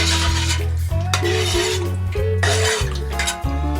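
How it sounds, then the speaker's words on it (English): A spoon stirs sugar and pectin into elderflower liquid in a pan, giving close, loud scraping and clinking against the pan in repeated strokes with brief pauses. "Just give that a stir in."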